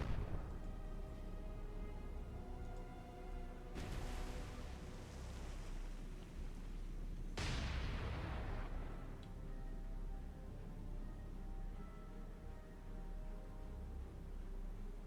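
Deck gun on a ship in the naval game War on the Sea firing two heavy booms a few seconds apart, each with a long rumbling tail over a steady engine-and-sea drone.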